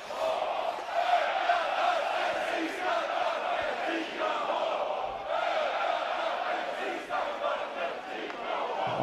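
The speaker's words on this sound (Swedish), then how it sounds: "publiken räknar ner" A large crowd counts down together in a loud, steady roar with rhythmic rises, a stadium full of voices calling out in unison at a Hammarby vs Bollnäs match.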